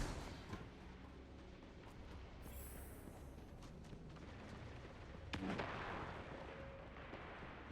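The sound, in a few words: gunfire shooting into a doorway in the video game Destiny 2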